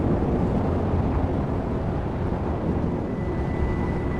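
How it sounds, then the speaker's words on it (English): Aircraft propellers keep running in the game The Moment of Silence, a steady, loud, unbroken engine drone and rumble filling the whole stretch without change. "The propellers are still running."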